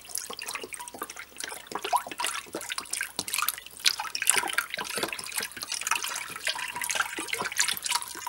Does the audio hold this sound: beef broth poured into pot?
yes